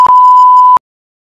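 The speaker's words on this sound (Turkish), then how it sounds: "Ya biplettirmeyin şey Allah aşkına." Steady electronic beep from a radio receiver, one loud sustained tone lasting under a second, close and clean, followed by silence.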